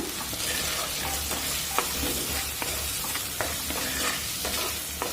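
A traditional Telugu curry of jackfruit seeds, with rock salt just added, is stirred in a pan with steady scraping strokes and a soft sizzle underneath, and no one talks.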